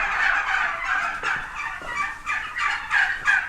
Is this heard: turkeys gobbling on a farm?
yes